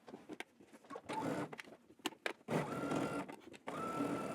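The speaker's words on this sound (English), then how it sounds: "push your seam allowance up towards your facing and understitch" A sewing machine runs in short bursts while understitching the seam allowance to a garment facing, whirring with fast mechanical ticking that stops and restarts several times, close and fairly loud.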